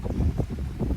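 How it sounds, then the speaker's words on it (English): Wind buffeting a microphone outdoors on a chilly Florida morning, low rumbling gusts that swell and drop in quick pulses. "it's a little windy out here and it's chilly"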